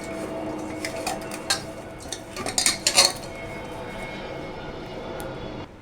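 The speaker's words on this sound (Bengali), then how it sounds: "প্রথমে আমি ডিমের মধ্যে নুন আর হলুদ দিয়ে মাখিয়ে নেব।" Boiled eggs mixed by hand with salt and turmeric in a metal dish, giving irregular clinks and scrapes that cluster midway, over a steady droning background hum.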